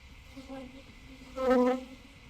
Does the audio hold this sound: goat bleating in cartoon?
no